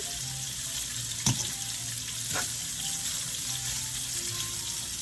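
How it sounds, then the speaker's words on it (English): Pasta sizzling in a hot pan during a home salmon dinner, a steady hissing fry with two brief sharp clinks of utensils, no talking. "just add our pasta in"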